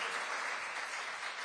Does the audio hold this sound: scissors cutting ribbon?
no